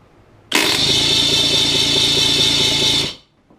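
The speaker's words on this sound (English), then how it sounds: "That starter does not sound good." A starter motor that sounds faulty cranks a V6 Mercury outboard engine in one loud, steady whirring burst of about two and a half seconds, starting abruptly and then cutting off, with no talk.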